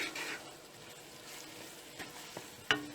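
Mutton with onions and salt fries in a pan for lamb do pyaza, a quiet low sizzle with a couple of light stirring knocks and one sharper clink near the end.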